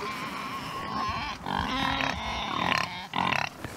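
Grunting, snuffling pig noises come in several short bursts close by, with brief pauses between them.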